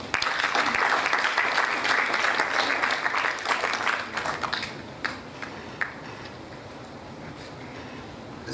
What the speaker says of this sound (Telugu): ఈ సందర్భంగా ఒక్కసారి మీ పేరెంట్స్ కోసం చప్పట్లు కొట్టండి.